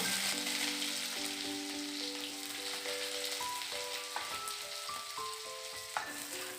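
Chopped garlic and onion fry in a pan with a steady soft sizzle and a few stirring taps, heard under a melodic background tune.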